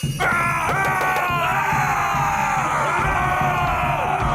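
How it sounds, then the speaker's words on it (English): Cartoon Vikings shouting and running around, a loud, continuous jumble of several yelling, bellowing voices over a busy background, close and overlapping throughout. "Vikings! Running around and shouting."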